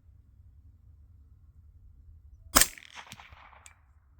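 A single sharp suppressed shot of 9mm subsonic ammunition from an AR with a 16-inch barrel and R9 silencer, a near crack followed by brief echoing tail in an otherwise quiet outdoor setting.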